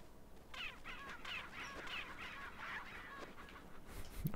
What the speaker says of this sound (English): I'm trying to cut that chicken.